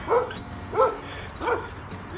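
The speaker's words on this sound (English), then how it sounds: "Look at the little black dog over here." A small black dog barks three times in evenly spaced, fairly close barks over a quiet outdoor background.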